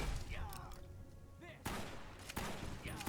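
Gunfire aimed at turrets in Fallout New Vegas, with a few loud sharp bursts standing out against a busy background of game sounds and faint chatter.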